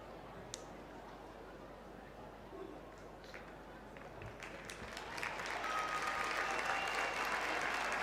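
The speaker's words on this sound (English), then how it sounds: "the applause is rippling around the ground" A football stadium crowd at a Manchester United v Everton women's match breaks into applause, starting faint and distant and swelling to a steady ripple around the ground.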